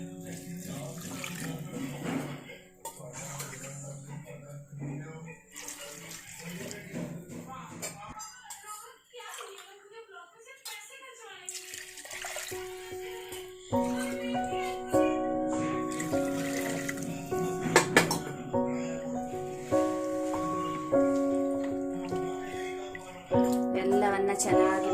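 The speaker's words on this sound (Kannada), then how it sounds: "2 ಲೋಟ ಅಕ್ಕಿಗೆ 4 ಲೋಟ ಅದರ ಡಬಲ್ ಅಷ್ಟು ನೀರು ಸೇರಿಸ್ಕೊಳ್ತಾ ಇದ್ದೇನೆ" Water is poured over rice and spices in a cooking pot, two cups of rice to four of water, splashing and trickling in bursts while someone talks over it in a home kitchen.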